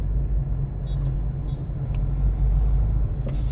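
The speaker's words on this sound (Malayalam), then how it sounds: "8 അല്ല 10 വീലുള്ള വണ്ടി കേട്ടോ ഈ പോകുന്നത്" A heavy ten-wheel lorry drives along the road, a steady low engine rumble and drone close by, with a few faint high squeaks and no voices.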